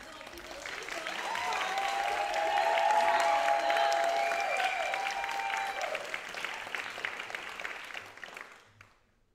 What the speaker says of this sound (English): Keep the clap going.